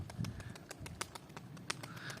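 Faint pigeon sounds with soft, low cooing and scattered light taps and rustles in a quiet outdoor space.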